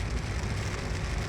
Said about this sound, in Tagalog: Uwan eh, may ulan.